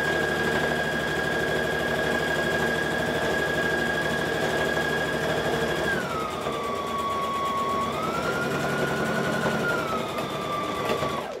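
A sewing machine with a worn needle runs steadily at close range, giving a continuous high whine that drops and rises in pitch as the speed changes, then stops abruptly.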